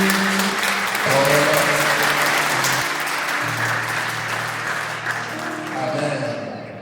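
A wedding congregation in a church applauds and cheers, with dense sustained clapping that fills the room and organ or keyboard chords sounding underneath, then fading toward the end.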